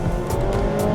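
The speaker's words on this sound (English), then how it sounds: "this car is actually decently quick, but you can hear the engine is screaming" A Honda Step WGN hybrid's engine screams at high revs under hard acceleration, a loud, sustained strained drone with tire and road noise and no talking.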